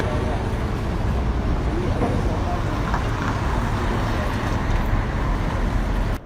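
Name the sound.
street traffic in New York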